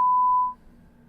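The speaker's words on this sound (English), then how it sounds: "the tone noise you're hearing is the redaction basically of the name" A single steady censor beep lasts about half a second over a phone call recording, then gives way to faint line hiss.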